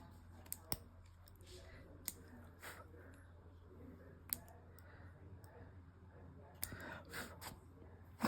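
Scissors trimming loose embroidery thread tails on an in-the-hoop zip bag, a handful of quiet, sharp snips spaced irregularly over a soft background hum.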